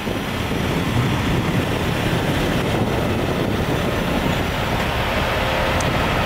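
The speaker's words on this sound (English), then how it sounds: "So this truck's finally leaving by the looks of things." A truck that had been idling outside Barclays Center pulls away, its heavy engine a loud, continuous, broadband rumble that stays steady throughout with no talking.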